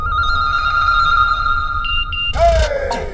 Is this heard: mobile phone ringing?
yes